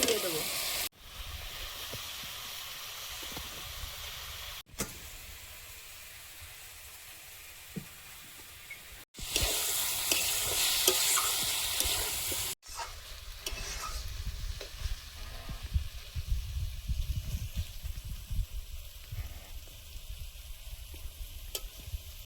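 Bombay duck fish frying in a turmeric and coriander spice paste, a steady sizzle and hiss from the pan broken by a few abrupt cuts, with stirring scrapes and occasional soft pops, close and moderately loud.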